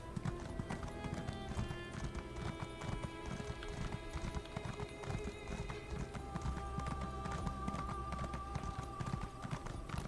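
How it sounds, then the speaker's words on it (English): Steady clip-clop of horse hooves at a slow walking pace in The Elder Scrolls Online: Elsweyr, continuous and close, layered over background game music and ambient effects. "This horse is slow."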